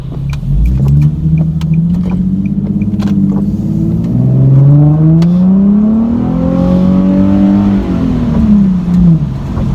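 Nissan 370Z with its muffler deleted accelerating hard on a rainy street in traffic, a loud raspy exhaust climbing and falling through several revving pulls for about ten seconds.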